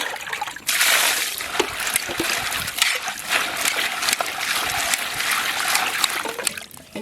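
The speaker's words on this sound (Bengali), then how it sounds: "ফুলকপিগুলো ধুয়ে নেব।" Cauliflower pieces being washed under a running kitchen tap, a continuous hissing splash of water with small clatters, close and steady throughout.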